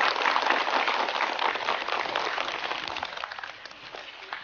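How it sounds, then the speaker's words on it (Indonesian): Applause from an audience at an Islamic religious program in Indonesia, moderately quiet and somewhat distant, steady at first and then gradually thinning as it tapers off. "Tepuk tangan buat Pak Fauzani."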